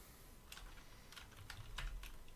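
Fingers type a Linux tail command on a computer keyboard, giving several short, close bursts of key clicks spread across a couple of seconds with small pauses between them.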